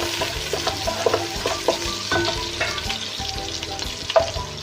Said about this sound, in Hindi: तो जो प्याज मेरे लाइट ब्राउन हो गए